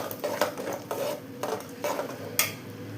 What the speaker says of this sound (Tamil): எல்லாமே எண்ணெயில் வதக்கிடணும்